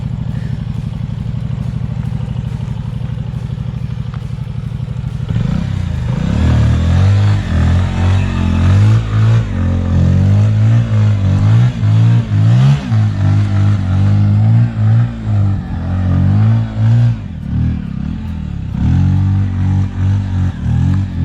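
A Bajaj Pulsar NS 125 motorcycle labours in sand, idling low at first, then rising into loud, repeated choppy revs as the engine strains to dig out.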